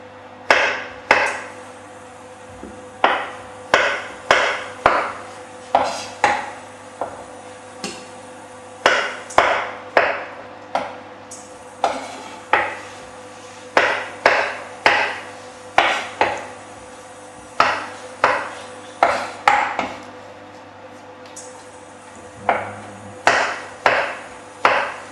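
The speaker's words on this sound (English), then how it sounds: "So all you want to do with these now is just slice them up." A knife slices vegetables on a chopping board in a home kitchen, giving crisp, close knocks that come in quick rhythmic bursts separated by short pauses.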